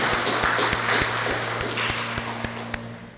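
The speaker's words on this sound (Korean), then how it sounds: "주 앞에 영광의 박수를 올려드립니다." A church congregation claps in unison at a quick, regular beat, the hand claps ringing through the hall over a low steady hum, with no speech.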